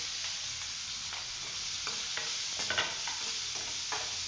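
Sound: green chillies, curry leaves and onion frying in pan

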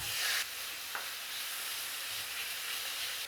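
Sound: beef being stir-fried in a pan without oil

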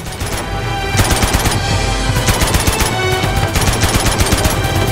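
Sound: gunfire in the video game Uncharted 2

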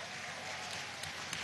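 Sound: audience applause

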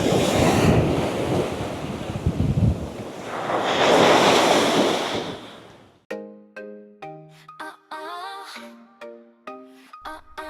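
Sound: ocean waves at a beach in Pattaya

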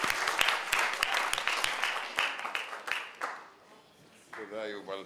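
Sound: audience applause

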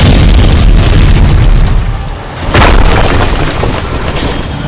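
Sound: big bomb explosion

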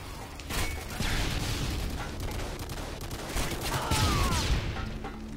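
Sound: sentry gun firing in Modern Warfare 2 video game

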